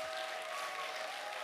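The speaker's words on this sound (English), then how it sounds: "Big round of applause to Mrs." At a Christian school preschool graduation, the audience gives a short, steady burst of applause that blends into a dense, even wash of many hands clapping together.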